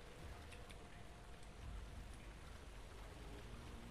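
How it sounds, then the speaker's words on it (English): Steady rushing water in the dark game Amnesia: The Dark Descent, a loud, continuous wash like heavy rain or a stream filling the whole scene, with no voices over it. "The water's loud."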